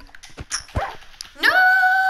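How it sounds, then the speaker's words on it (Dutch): Dog whimpering in the Minecraft video game: short game-sound yelps and a higher whining tone that starts partway through and holds to the end, fairly loud, with no talking. "Nee, dat is de hond van de buren."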